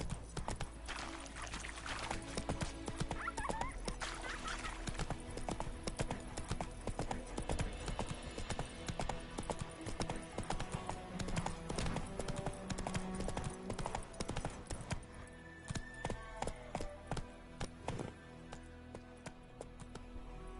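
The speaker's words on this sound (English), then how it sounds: "Come on, Roach. Whoa! Slow now. Whoa" Hooves clip-clop in a steady rhythmic gait from a horse ridden in The Witcher 3 on PlayStation 5, with an occasional whinny, fairly close and continuous throughout.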